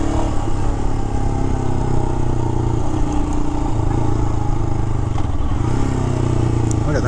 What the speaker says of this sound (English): this does feel like a traditional dual sport motorcycle